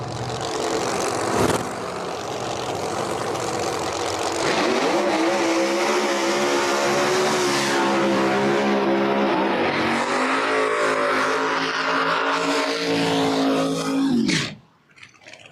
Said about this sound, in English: These two cars just finished up their burnouts over in the right lane.